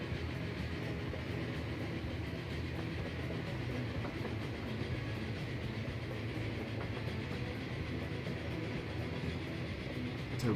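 A train in Transport Fever 2 rumbles steadily along the rails, a continuous dense rolling roar with faint wheel clatter that stays even and close for the whole stretch, with no talking.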